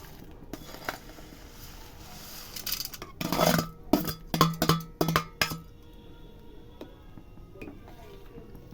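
A spoon clinks and scrapes against a pot while chosi pitha are stirred into thickened, boiled-down milk, a quiet stretch followed by a cluster of sharp taps and knocks, then softer scraping.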